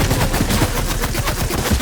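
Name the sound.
gunshots in a video game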